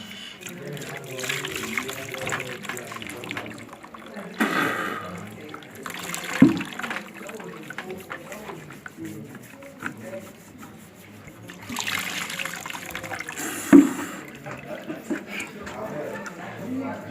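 Tap water runs into a sink for hand washing, flowing in uneven trickles and gushes close by, with people talking over it throughout.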